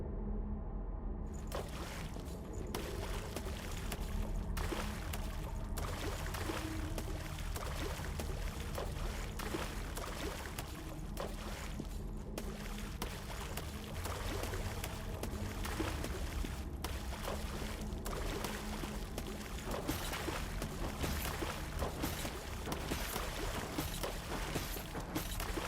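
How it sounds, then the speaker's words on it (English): Soft splashing and trickling water under footsteps in Code Vein, a steady watery churn with faint rhythmic sloshes as a character walks through a shallow pool, continuous and even in level throughout. "listen closely to the water as I walk around right here"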